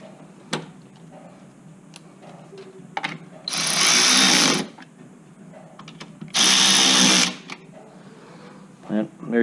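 A power tool tightens two nuts on the idler pulley of a 2000-2005 Chevy Impala serpentine belt setup, in two loud, steady bursts of about a second each, separated by quieter clinks and handling noises.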